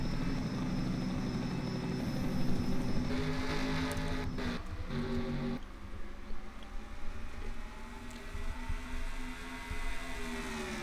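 Race car engines roar in a racing video game at a New Hampshire oval, with sustained droning engine tones that shift in pitch as cars pass, fairly faint, with no talk.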